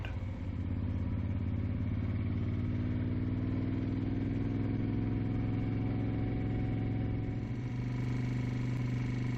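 A 1972 Eldorado motorcycle engine drones steadily while riding a quiet back road in Northern Ontario, a close, loud, even thrum with a strong low hum and slight shifts in pitch as the speed changes.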